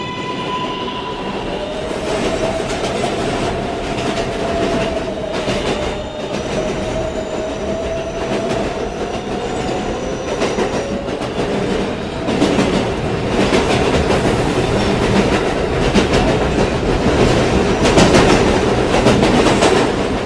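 A New York City subway 7 express train bound for Kennedy Main Street runs on board with a steady loud rumble, rhythmic clickety-clack of wheels over rail joints, and faint squealing tones, growing slightly louder in the final stretch.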